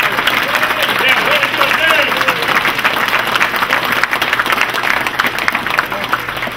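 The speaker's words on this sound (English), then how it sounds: "Everybody should give Dan a good round of applause." An audience at an automotive event gives a sustained round of applause, dense clapping filling the whole stretch, with voices mixed in underneath.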